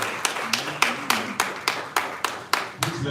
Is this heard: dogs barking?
no